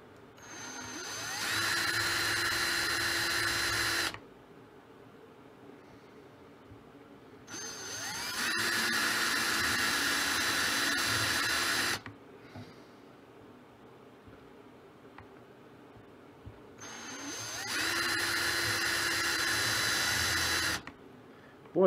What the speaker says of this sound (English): So let's go ahead and let's drill our holes here.